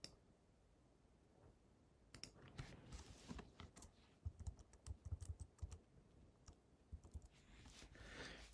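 Arrow keys on a computer keyboard are tapped in irregular bursts of quiet clicks, sparse at first and then faster and clustered, with no talk over them.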